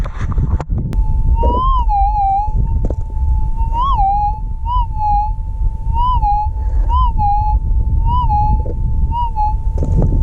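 A metal detector's steady electronic tone hums continuously, warbling upward in brief wavering chirps every second or so over a low rumbling background while gold prospecting in the Goldfields of Western Australia.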